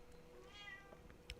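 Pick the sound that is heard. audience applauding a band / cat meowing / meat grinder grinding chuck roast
cat meowing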